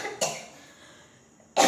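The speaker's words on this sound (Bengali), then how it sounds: "আমার আজকে হাঁচির থেকে কাশি হচ্ছে বেশি।" A person coughs twice after taking snuff during a sneezing challenge, with one sharp cough at the start and another near the end, close and loud, with quiet breathing in between.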